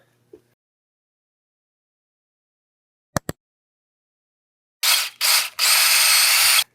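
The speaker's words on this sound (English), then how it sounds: "If you drill a hole like that" After near silence and two sharp clicks, a power drill whirs up close in two short bursts, then runs in one steady, harsh grind, drilling a tap hole into a maple tree.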